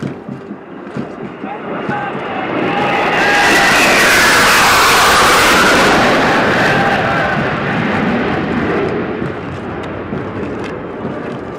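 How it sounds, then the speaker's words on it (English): Three Su-30 fighter jets fly past over a military passing-out parade, their roar swelling to a loud, broad rush before fading away. "You can see 3 Su-30 aircrafts approaching the quarter deck."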